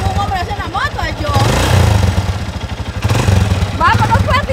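A motorcycle engine idles and revs nearby outdoors, a rough mid-pitched rumble that swells twice, under loud overlapping conversation among several people.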